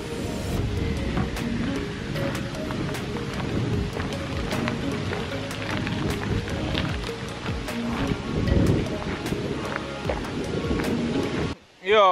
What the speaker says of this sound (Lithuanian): Jo, šiandien vėjukas.